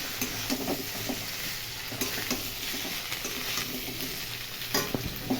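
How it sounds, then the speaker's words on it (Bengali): Potatoes fry in a hot wok (kadai) and get stirred, with a steady bright sizzle and scattered scraping clicks of the spatula against the pan. No one talks. "চলো নাড়াবো, তো নাড়াচাড়া করে"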